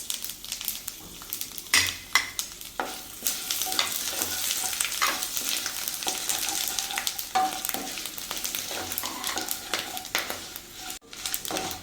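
Whole spices such as fennel, cloves, bay leaf, cinnamon, cardamom and star anise fry in hot oil, giving a soft continuous sizzle with scattered scrapes and clinks of a spoon stirring in the pan.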